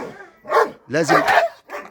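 A dog gives several short, sharp barks during bite training with a cloth rag, loud and close, with a voice talking around them.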